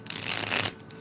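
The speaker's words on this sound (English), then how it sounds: "I love how this deck shuffles too." A deck of playing cards with a blue-edged core being shuffled up close, a dense burst of riffling and rustling that fades out near the end.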